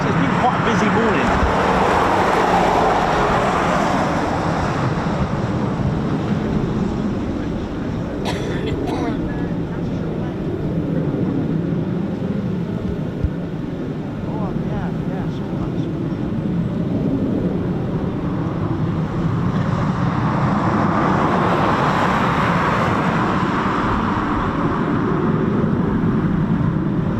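A Eurofighter Typhoon FGR4 jet departs from an RAF runway, its broad roar swelling, fading and swelling again as it passes, loud and distant, with people talking over it.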